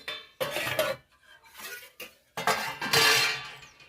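A metal lid comes off a cooking pot of vegetable curry with clanks and scrapes of cookware, several close bursts of metallic rattling and shuffling separated by short pauses.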